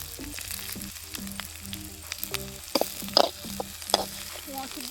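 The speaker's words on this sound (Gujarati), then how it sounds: "તો તમે જોઈ શકો છો કે આપણે ડુંગળી તો નાખી દીધી છે. હવે થોડી ડુંગળી ગરમ થવા દઈએ." Onions frying in a hot pan at a jungle campsite, a steady close sizzle with occasional scraping stirs and brief pops, loud and continuous.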